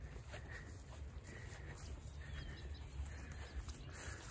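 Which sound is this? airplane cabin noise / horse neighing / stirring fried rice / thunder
horse neighing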